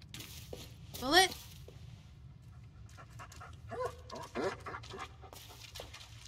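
A dog pants in the Blair Witch video game, a loud harmonic bark-like burst early, then softer whimpers and breathy sounds over a constant low rumble of forest ambience.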